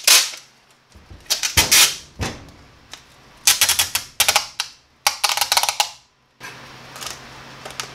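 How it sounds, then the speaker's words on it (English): Packing tape rips and screeches off the roll in loud bursts while it is wrapped around a box holding a homemade CPAP battery backup, in several separate pulls with short pauses between them and no speech. "I'm going to just wrap the whole thing up in the boxing tape"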